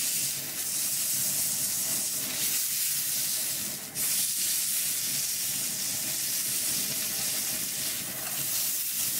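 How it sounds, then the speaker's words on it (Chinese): Filet mignon steak sizzles steadily in a hot pan, a dense continuous hiss and crackle close by that runs unbroken, with one brief dip partway through and no talking. "我们总共煎了7分钟了哈"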